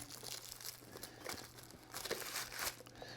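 Shrink wrap is peeled and torn off a deluxe vinyl box set, giving soft, close crinkling and crackling plastic that comes in uneven bursts over a few seconds at a quiet level.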